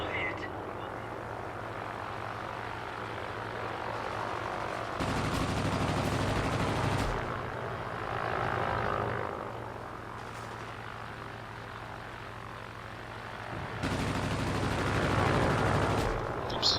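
Aircraft machine guns firing in World of Warplanes as a Hawk III fighter dogfights, rattling bursts at intervals over a constant engine drone, fairly loud with no talk.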